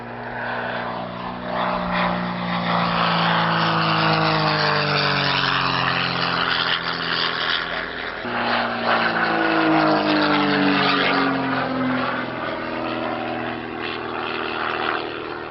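American-built replica of a FW190 fighter with an American engine flying past at an airshow in Old Warden, England, a loud, sustained propeller engine roar whose pitch sweeps up and down as it passes.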